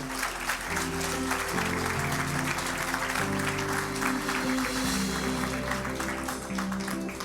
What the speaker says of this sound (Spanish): Denle un aplauso bien fuerte.